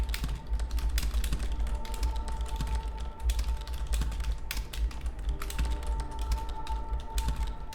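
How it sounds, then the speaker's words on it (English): Rapid, continuous keystrokes on a computer keyboard while playing a typing game, dense clicking at an even pace, close up and without any talking. "Now I'm just enjoying the typing."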